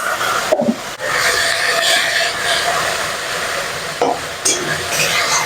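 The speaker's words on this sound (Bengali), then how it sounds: "শাকটা কিন্তু আমি মিডিয়ামে রেখেই ভাজবো" Radish greens with whole poppy seeds and black cumin fry over medium heat in a pan, a continuous sizzle with scraping stir strokes and a couple of clanks against the pan.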